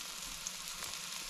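Toadfish frying in hot oil gives a steady, soft, even hiss of sizzling that runs without break, fairly faint and close.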